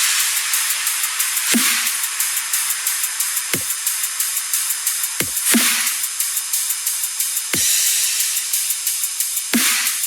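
Half-time drum pattern for a melodic dubstep remix, with deep kick hits and bright noisy snare and hi-hat washes at a slow, steady pulse, loud and alone.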